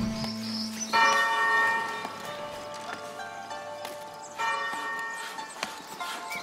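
Church bell tolling in the video game Foundation, a medieval town-building game, with resonant ringing strikes that sustain and overlap, fairly loud against a soft ambient background.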